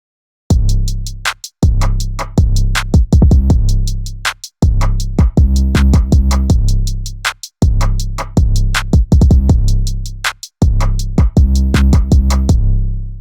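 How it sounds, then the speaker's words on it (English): A looping hip-hop beat with deep booming 808 bass hits under punchy drums, repeating in steady bars with brief gaps between loops. "The next thing I added was an 808."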